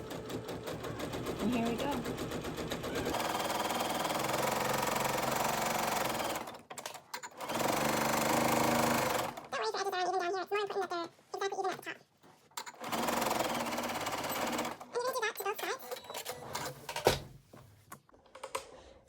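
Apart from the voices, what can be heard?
sewing machine stitching a seam on an Ikea bag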